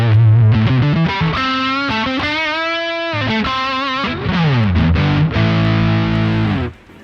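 Heavily distorted electric guitar through a full-range metal distortion pedal plays loud, thick chords and sliding bends with a saturated, buzzy tone, ending with a long sustained chord that cuts off.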